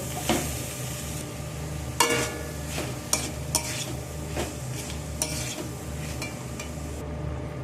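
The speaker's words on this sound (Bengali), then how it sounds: "তিলটা আমি দিয়ে দিলাম দিয়ে আমি খানিক্ষণ নাড়াচাড়া করে ভাজা করে নেবো" Sesame seeds fry in a pan under a steady sizzle while a utensil stirs, giving several sharp metallic clinks and scrapes at irregular intervals, close by with no voices.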